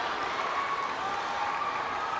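Crowd at the 2019 SEA Games gymnastics applauding Carlos Yulo's parallel bars routine, a steady wash of clapping and cheering that fills the arena without pause.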